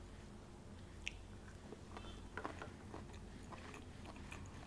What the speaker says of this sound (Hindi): अब हम खा के देखते हैं इसका टेस्ट कैसा होगा खाने में